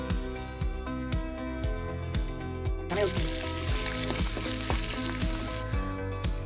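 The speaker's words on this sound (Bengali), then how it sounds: "কড়াইয়ে গিয়ে তেল গরম করে মাছগুলোকে ছেড়ে দিলাম এবং মাছগুলো ভাজা শুরু করলাম" Freshly caught river fish fry in hot oil in a wok, a crackling sizzle under loud, rhythmic background music, the sizzle swelling brighter partway through.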